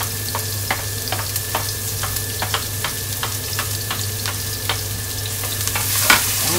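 Onions sizzling in a hot pan at the start of cooking dinuguan, a pork blood stew, with steady frying hiss and periodic sharp scrapes and clinks of a utensil stirring, close and alone without talk.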